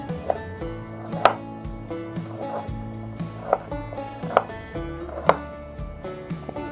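A knife chops carrots into small rounds on a board, giving irregular sharp knocks at close range, roughly one or two per second, alone over a low hum with no talking.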